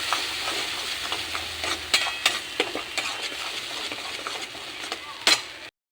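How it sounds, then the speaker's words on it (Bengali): A homemade spice paste with turmeric stir-fries in a hot pan for a Bengali potol alu posto, giving a constant sizzle broken by repeated scraping strokes of the spatula; no one speaks. "আর আমার সেই করে রাখা মশলাটা আমি দিয়ে দিলাম। একটু কষিয়ে নেব।"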